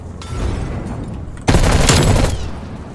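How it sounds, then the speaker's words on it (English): Napalm strike explosions from Call of Duty Black Ops Cold War: a rumbling barrage of blasts and gunfire swells loudly around the midpoint and roars on, with no talk. "Enemy napalm strike incoming. Oh, they're napalming."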